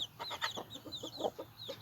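Hens clucking in a backyard flock that includes a broody mother hen with her newly hatched chicks, a string of short, close clucks and soft calls in an uneven rhythm with no voices.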